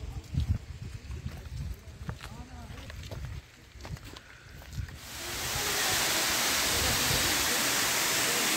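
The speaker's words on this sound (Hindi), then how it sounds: "ये जंगलों के बीच ये वाटरफॉल्स" A steady roar of Patratu waterfall in the forest near Ranchi, Jharkhand, swells up and takes over partway through, preceded by rustling and outdoor activity nearby, after rain.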